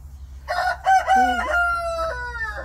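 A rooster crows loudly nearby with a long drawn-out call, and brief clucks from chickens mix in at the start, indoors near a boho-style chandelier they are nesting in.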